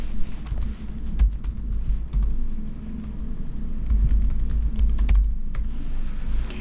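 Someone types a company code and user ID on a computer keyboard to log into ERP software. Rapid, close key clicks come in quick bursts with brief pauses, alone without speech.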